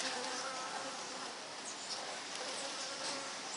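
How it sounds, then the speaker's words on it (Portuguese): Bees buzz in a city setting, making a dense, continuous hum of many insects that stays fairly close and even throughout, with no voices. "Essas abelhas aqui, por exemplo, era para elas estarem sugando néctar de flores."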